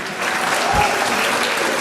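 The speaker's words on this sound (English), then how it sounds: "Another nice round of applause for Reverend Richards." A round of applause from a church gathering at a crèche blessing, steady clapping that swells in after a brief quiet start and holds at an even level, moderately close.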